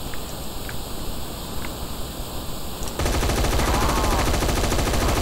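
M16 rifle fire in a Roblox zombie shooter game arrives as loud rapid bursts, with a denser and heavier stretch of automatic fire in the second half and no talking over it.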